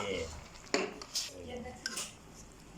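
Pork and shrimp being stir-fried together in a pan, with a few metal clinks and scrapes of the utensil against the pan, low sizzling beneath, and a voice speaking throughout.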